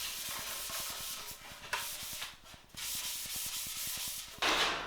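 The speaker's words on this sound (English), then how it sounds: "rub the frame up and down with such a sanding pad" A sanding pad rubs back and forth against a metal mountain bike frame in quick, regular strokes, a close, hissy scraping with a brief pause midway.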